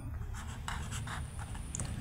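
A third-grade math problem is written out by hand, likely on paper, a steady close scratching of pen strokes over a low background hum, with no talking.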